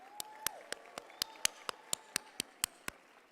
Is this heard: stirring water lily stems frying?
no